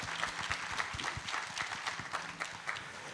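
Congregation clapping during a Sunday church service after new members are received, a moderate patter of hand claps spread through the room, continuous for a few seconds with uneven rhythm.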